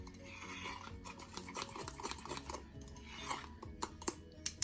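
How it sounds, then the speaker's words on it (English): A whisk scrapes and clinks steadily against a mug while vegan brownie batter is beaten smooth, a quick continuous rhythm of close, gentle metal-on-ceramic stirring. "And we're going to get all that whisked up really well"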